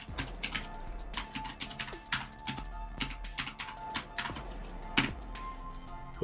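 Fast, uneven typing on a computer keyboard with close, crisp key clicks in bursts, entering a password and commands on a Raspberry Pi 5 with no talking.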